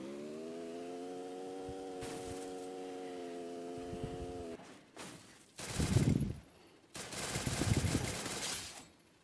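Gunfire in an online shooter game, opening with a steady tonal whine and then bursting into two loud sustained volleys of rapid automatic fire, with no talking.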